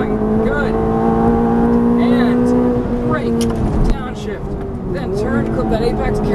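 A Ferrari F430 on a race track sends out a loud, steady engine drone that rises and dips as the throttle shifts, with an instructor's voice talking over it.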